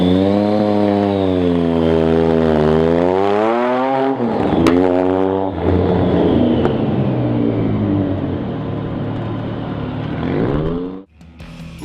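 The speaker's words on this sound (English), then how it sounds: "A gorgeous little motorcycle engine." Small motorcycle engine revving, with a strong buzzing harmonic tone that rises and falls through several throttle blips, loud and close, ending abruptly.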